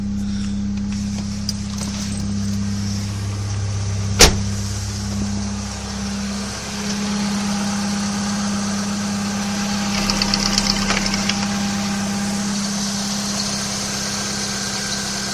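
A Vauxhall Astra Mk4 engine idles steadily after a cam/timing belt change, with a low, constant rumble and hum, a single sharp knock partway through, and no voices.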